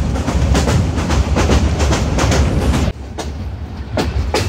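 The 737 Up Egarosindur Provati Express runs at around 50 km/h, its wheels clacking in a steady rhythmic beat over loud continuous rail rumble, close by, with no voices.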